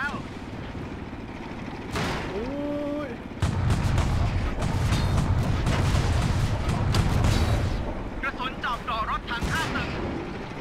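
Heavy cannon blasts from a tank in the game World of Tanks, booming over a rumbling engine and battle din, with a broad blast around the three-second mark and further crackling impacts while a voice talks.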